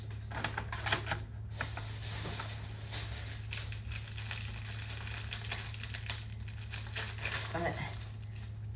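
A paper bag crinkles and rustles close by in a steady, textured patter with a few sharper crackles near the start, quiet, with someone talking at times.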